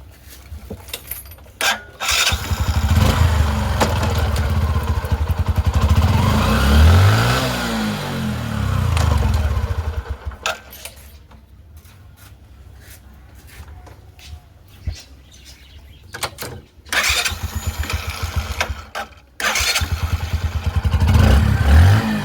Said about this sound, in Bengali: চেনের আওয়াজ আশা করি শুনতে পাচ্ছেন